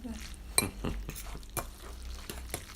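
Spicy ramen noodles are stirred in a bowl with a utensil, giving irregular clinks and scrapes at close range, with no talking.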